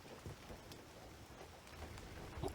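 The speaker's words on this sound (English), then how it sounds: "I'm enjoying the rain, honestly. It's nice and peaceful here." Steady rainfall in the adventure game Indiana Jones and the Great Circle, a soft continuous hiss of falling rain with scattered drop patters and faint low rumbles, no talking.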